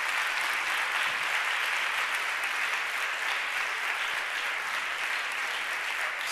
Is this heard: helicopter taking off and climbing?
no